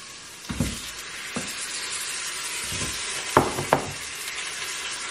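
Potatoes frying in a pan after browning: a steady sizzle throughout, with several clattering stirs and scrapes of a utensil, close up and without talk.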